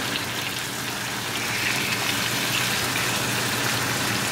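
Two cups of hot water poured into a pot of spicy chicken drumstick curry, making a steady, close splashing gush that runs unbroken for several seconds with no talking.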